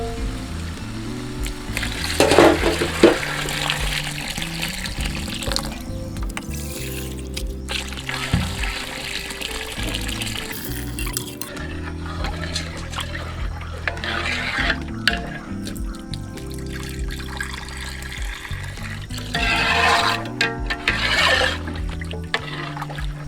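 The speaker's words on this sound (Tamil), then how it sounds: "அரிசிக்கு தேவையான அளவு தண்ணி ஊற்றலாம்." Water pours and trickles steadily into a pot of soaked rice for country chicken biryani, with splashing and dribbling that swells and fades over about twenty seconds, close by with no talk.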